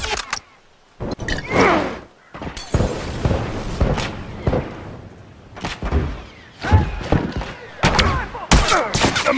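Rifle shots and scattered gunfire in The Last of Us, a string of sharp, loud cracks and thuds at irregular intervals over a noisy combat scene, with brief gaps of near quiet between bursts.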